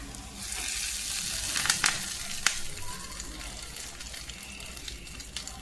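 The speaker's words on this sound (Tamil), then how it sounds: "இப்போ இந்த தாளிச்சதை நம்ம சட்னியில் ஆட் பண்ணிக்கலாம்." Hot tempering of fried onion poured into coriander chutney, a burst of crackling sizzle with a few sharp pops early on, then settling into a softer steady fizz, close by and fairly quiet.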